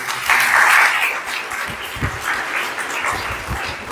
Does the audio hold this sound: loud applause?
yes